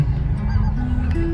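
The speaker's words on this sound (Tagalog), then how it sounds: "Ayan, mga ibon din. Ang dami." A flock of geese foraging outdoors on a cold day, honking repeatedly at close range in loud, overlapping calls over a low steady background rumble.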